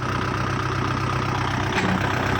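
A 2018 Kubota 50-horsepower tractor engine idles steadily up close, a continuous low, throbbing rumble with an even rhythmic pulse and no talk.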